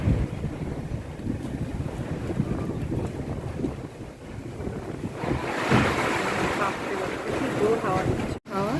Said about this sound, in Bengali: শুধু এবার একটু হাওয়া বেশ ভালোই দমকা হাওয়া দিচ্ছে